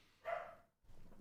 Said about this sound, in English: I apologize for my dog barking in the background.